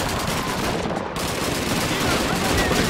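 Machine gun fire from Call of Duty 2 rattles in dense, continuous bursts, loud and close, with the sound of a chaotic firefight throughout.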